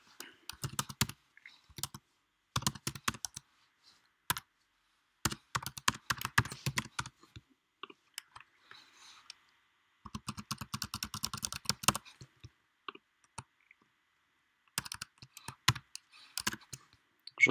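Typing on a computer keyboard while filling in payment details online: bursts of crisp, close key clicks, some rapid runs and some single taps, separated by short silences.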